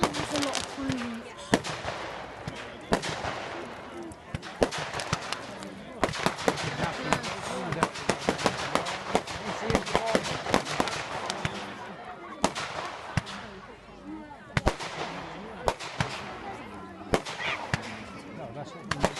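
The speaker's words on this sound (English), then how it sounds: "There's a lot of fireworks." Bonfire night fireworks burst again and again outdoors, with sharp crackling bangs and rapid firecracker-like volleys at varying distances, while people chat nearby.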